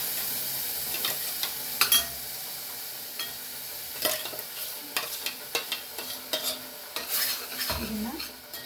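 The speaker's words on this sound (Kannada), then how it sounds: "ಇವಾಗ ನಾನು ರುಬ್ಕೊಂಡಿರೋ ಮಸಾಲೆನ ಹಾಕಿ ಇದನ್ನು ಸ್ವಲ್ಪ ಫ್ರೈ ಮಾಡ್ಕೊಳ್ತೀನಿ." Ground masala for a Malenadu-style rajma curry fries in oil, crackling and sizzling steadily while a spoon scrapes and stirs the pan in repeated close strokes.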